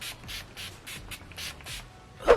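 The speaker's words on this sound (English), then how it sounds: "Makeup Fixing Spray." Seven quick, soft hisses of a makeup fixing spray bottle pumped in a steady rhythm, close up, with no talking.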